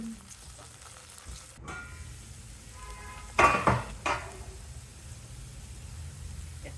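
Finely chopped beans and green peas fry in a little ghee with a low steady sizzle, broken near the middle by a couple of louder bursts of stirring or ingredients landing in the pan.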